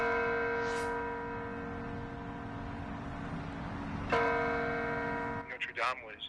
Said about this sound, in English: Bells tolling, tributes spoken, and hearts breaking